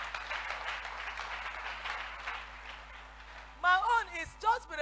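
A church congregation claps for Jesus, dense applause filling the first few seconds before fading, then a voice speaks over the tail end.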